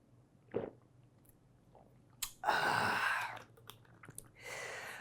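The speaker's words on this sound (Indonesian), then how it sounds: "kita seruput kopi dulu dengan kopi seruput" Someone sips coffee close up: a short slurp, then a longer loud sucking sip lasting about a second, followed by softer mouth sounds and a final brief slurp.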